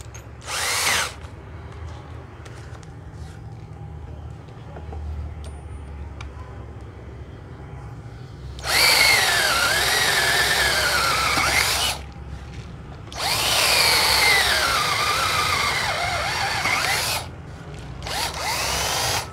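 A cordless drill/screwdriver with two speed settings and a reversing switch, second-hand Japanese, runs in three loud whirring bursts of a few seconds each, with quiet pauses between them and a short final burst.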